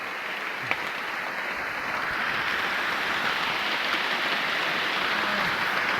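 Steady rain pouring down on a farm with bitter gourd crops, a dense even hiss of drops on the surface that stays constant and fairly loud throughout, with no voices.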